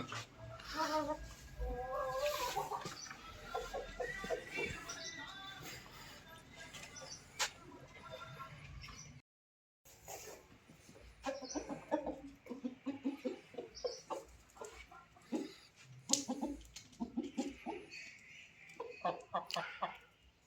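Chickens cluck and peck while eating spinach: a scattered run of short, sharp clucks and clicks at close range, with a brief silent gap in the middle and a voice occasionally heard in the background.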